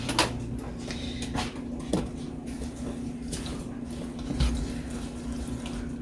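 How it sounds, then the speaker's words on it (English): Apple juice poured into a pot of sugar, a steady liquid stream running for several seconds with faint clinks and a low hum beneath. "got my sugar in here, and I'm just going to add my apple juice"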